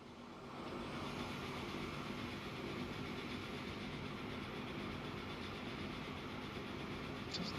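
A train rolls along in the Transport Fever 2 game, a steady broadband rumble that fades in over the first half-second and then holds constant and fairly loud, with a faint click near the end and no voices.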